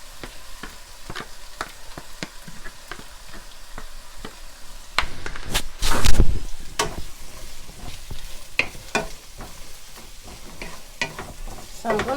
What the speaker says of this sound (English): let me put this onions to caramelize while we're doing all of that